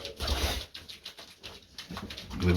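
Colored male pigeons coo softly in repeated low calls, fairly near, with some shuffling and rustling around them and no voices.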